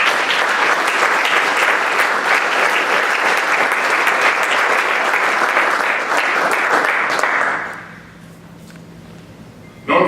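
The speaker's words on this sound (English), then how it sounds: "we honor him with your applause" Banquet audience at a hall of fame dinner applauding an inductee, dense loud clapping sustained for several seconds before fading out quickly into a quiet room.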